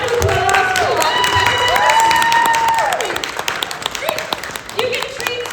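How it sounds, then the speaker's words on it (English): Audience applause and cheering at a convention compliment duel, a loud, sustained crowd wash with voices calling out above the clapping. "A round of applause for"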